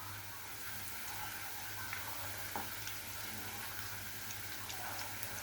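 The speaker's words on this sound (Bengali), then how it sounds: "মাংসটা আমার ভাজা হয়ে গিয়েছে।" Meat frying in a pan over medium heat gives a steady, even sizzle with faint crackles and pops, a constant hiss throughout under a low hum.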